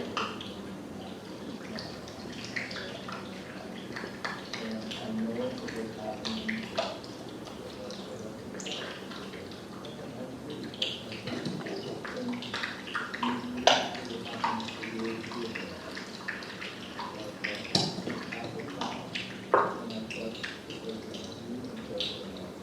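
Brash ice drifting in shallow water, captured on a hydrophone, gives a continuous field of small crackles, clicks and watery trickling, with a few sharper pops and knocks standing out at irregular moments.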